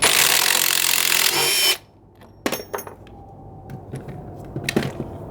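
A Metabo HPT triple hammer impact driver drives a fastener into wood with a loud, continuous high-pitched hammering buzz that stops abruptly, followed by several sharp knocks and handling clatter.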